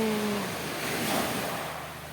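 Sea surf washes in as a broad, steady rush of waves with a brief tonal hum at the start, loud and close, and nobody speaks.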